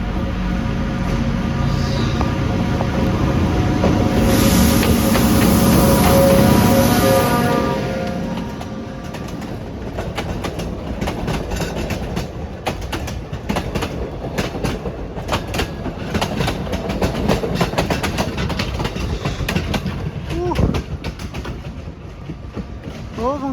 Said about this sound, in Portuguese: Olha, lá vem o trem.